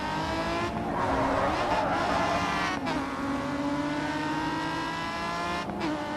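Race car engine in the racing game Grid 2 during a drift event, holding a steady high rev with a layered whine and occasional brief dips as gears shift, continuous and close throughout.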